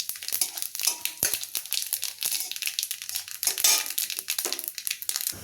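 Whole cumin, a few mustard seeds and two slit green chillies fry in a little oil, giving a dense, close crackle and spitting with irregular pops that runs steadily throughout, with no voices.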